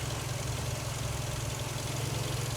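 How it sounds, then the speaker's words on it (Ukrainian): A Seat Leon with a 1.6 BSE petrol engine of about 102 horsepower, fitted with some tuning, idling steadily, a smooth even low hum with a faint mechanical ticking, close and alone, without speech. "Ну, зараз заведений, працює."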